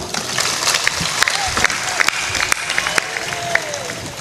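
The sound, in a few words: audience clapping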